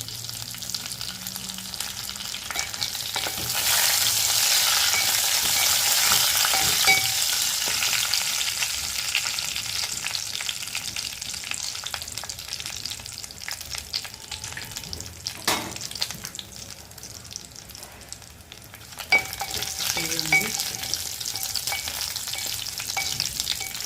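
Curry leaves and dried red chillies fry in hot oil in a pan for horse gram curry, bursting into a loud sizzle that gradually settles into steady crackling, with occasional stirring scrapes near the end.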